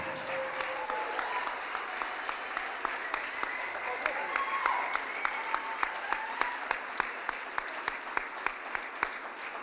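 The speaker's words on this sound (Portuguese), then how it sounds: "Aplauda." Church congregation applauding during a Portuguese-language service, a soft bed of crowd clapping with sharp individual claps standing out nearby, voices and shouts mixed in throughout.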